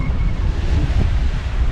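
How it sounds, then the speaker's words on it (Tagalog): Big ocean waves slap against a small fishing boat at sea in strong wind, a loud, close, constant rumbling wash with heavy wind buffeting, no voices. "Grabe ngayon, mas lumalaki ngayon ng alon guys."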